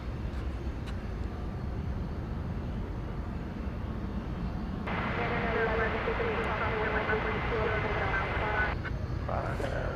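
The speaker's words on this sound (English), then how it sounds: "American Flight 1158 coming in from Washington Reagan National Airport" American Airlines Boeing 737-800 arriving at Dallas/Fort Worth airport at night, a steady broadband jet roar that swells partway through and holds, distant and continuous with low rumble underneath.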